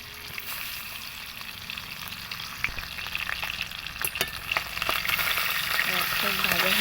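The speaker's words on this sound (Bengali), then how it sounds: "মাছের মাথা দুটো ভালো করে ভেজে নেব।" Two hilsa fish heads rubbed with salt and turmeric fry in oil in a kadai, making a steady hiss with sharp spitting pops that grow louder and denser toward the end.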